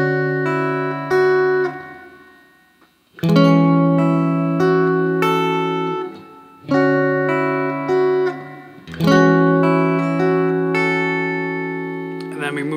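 An electric guitar plays the bridge of a song, with clean sustained chords struck in three long phrases that ring out and fade, close and clear with no talking.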